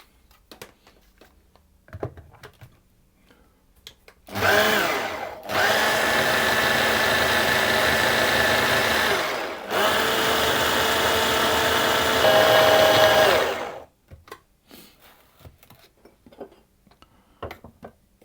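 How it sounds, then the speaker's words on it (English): Food processor blade whizzing butter and flour for apple and sultana tart pastry: a loud, steady motor whir runs for about nine seconds with one brief pause, framed by quiet clicks and handling before and after. "give those a quick whiz with the blade to get those mixed together a little bit"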